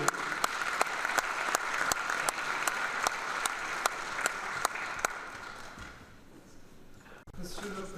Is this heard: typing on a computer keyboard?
no